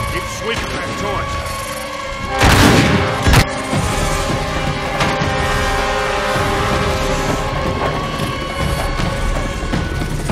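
Gunfire and booming shots in the video game Uncharted 3, dense and loud throughout, with a sharp burst of heavy blasts near the middle over constant rumbling game noise.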